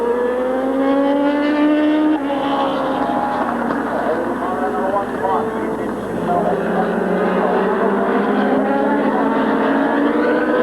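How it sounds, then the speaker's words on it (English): Dwarf race cars roar around Midvale Speedway as they take the green flag, several engines revving loudly and continuously with rising and falling pitch, near and dense, without any talking. "dwarf cars are just taking the green flag, making their first appearance ever here at Midvale Speedway"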